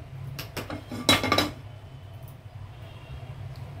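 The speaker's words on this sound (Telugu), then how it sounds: "ఇదిగోండి స్టవ్ ఆన్ చేసి గిన్నె పెట్టుకుందాం." A metal pot is set down on a stove with a few close, sharp clanks and clinks clustered near the start, then fades to a quiet kitchen background.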